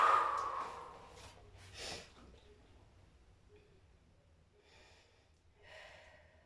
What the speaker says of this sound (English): taking a few breaths